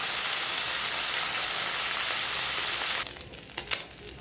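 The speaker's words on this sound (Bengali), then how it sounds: "আঁচ দিলে মাছগুলি ছিটকে ছিটকে চলে যাবে। অল্প অল্প করে ভাজবো।" Small fish frying in oil over low heat, giving a dense, even sizzle for about three seconds that then drops off to quieter crackles and a few pops.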